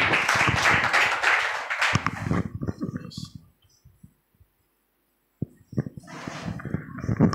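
A church congregation claps together in a short burst of applause, then falls quiet. Scattered claps and voices return near the end.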